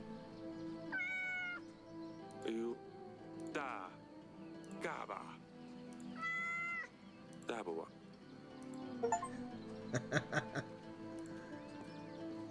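Dusty, a cat in Yes, Your Grace, meows repeatedly while being petted, several clear rising and falling mews spaced a second or two apart, with someone talking in between.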